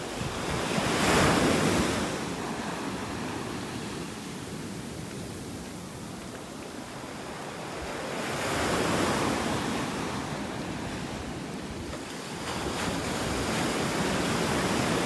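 Ocean waves roll and break on an eroded beach in North Naples, Florida, in steady washes of surf that swell and recede, with wind buffeting the microphone throughout and no voices.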